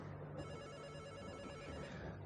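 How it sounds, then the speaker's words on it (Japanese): A telephone rings steadily in a Nintendo Switch mystery game set on Shironagasu Island, a continuous electronic ringing tone lasting the whole stretch, fairly close and alone with no talk over it. "また電話か。"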